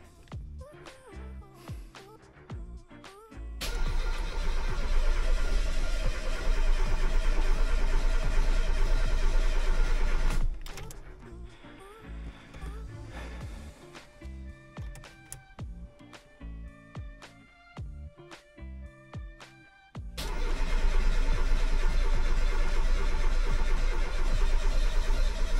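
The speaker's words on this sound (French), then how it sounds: "Grâce à ma vieille batterie de BMW qui est à l'origine morte, normalement, on va pouvoir démarrer" A BMW engine, its battery previously dead, cranks in two long, loud bursts of several seconds each without catching. Quieter mechanical clicks and rattles fill the gap between attempts.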